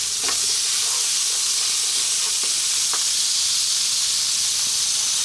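Chopped garlic and ginger frying in hot oil in a pan that was just used to cook fish, a loud, dense, steady hiss of sizzling with a few faint clicks from stirring, no voices.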